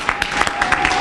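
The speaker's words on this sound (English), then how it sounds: "I'd like to ask that everyone stand and clap" Audience applause at a teacher pinning ceremony honoring newly certified teachers, a steady wash of many hands clapping with sharper individual claps poking through, fairly close and continuous.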